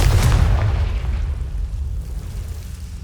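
A Confringo blasting spell explodes in the Hogwarts Legacy video game, giving a heavy, deep boom that rolls out and slowly fades into a low rumble, with no talking.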